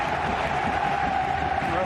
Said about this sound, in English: Thunderous applause and appreciation for El Presidente